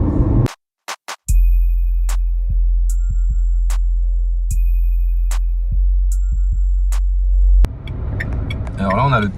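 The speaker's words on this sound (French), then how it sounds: "là on a le petit bruit du clignotant" A Dacia Spring electric car's turn signal ticks in a steady, even rhythm inside the cabin, a soft close click repeating about every second before a voice comes in.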